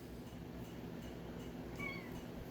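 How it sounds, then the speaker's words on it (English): A pet cat meows in a home kitchen: one short, fairly faint meow rises over a low background hum, with no talking. "I'm trying to get my cat out of here."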